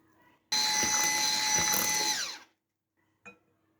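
An electric mixer whirs loudly for about two seconds, whisking peach cake batter after milk is added, then stops abruptly, followed by a short clink.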